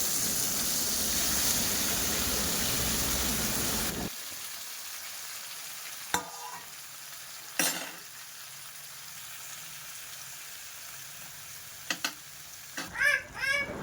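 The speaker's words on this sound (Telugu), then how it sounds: "ఇప్పుడు అదే ప్యాన్లో కొంచెం ఆయిల్ వేసి కట్ చేసి పెట్టుకున్న టమాటాలు నూనెలో మొత్తం ఉడికి దగ్గరకు అయ్యేంత వరకు వేసుకోవాలి" Chopped tomatoes frying in oil in a pan for tomato pickle: a loud, steady sizzle for the first few seconds, then quieter hissing broken by a few sharp scrapes and clinks of a utensil.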